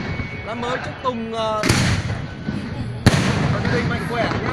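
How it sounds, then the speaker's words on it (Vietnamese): New Year aerial fireworks from a mortar battery explode high overhead in two sharp, booming reports spaced about a second and a half apart. A voice talks over the scene before and between the blasts. "anh đi xem bắn pháo hoa em ơi"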